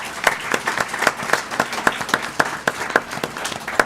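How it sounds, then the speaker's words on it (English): A small audience at a school board of education meeting claps for an absent student honoree, with a sparse, fairly regular run of distinct individual claps rather than a dense roar. "let's give her a big round of applause"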